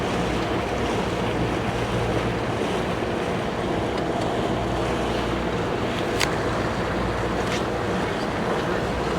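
A 1976 Starcraft boat runs on the Mississippi River, with a constant roar of wind and water rushing against the hull. The steady, loud noise stays unbroken and has no talk over it.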